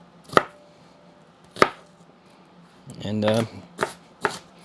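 A large white onion is chopped on a board, giving several sharp, separate knife strikes with pauses between them, close and clear, with a brief spoken word partway through.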